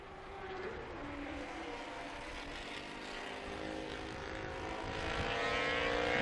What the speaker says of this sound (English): The sound of 2 strokes back at this racetrack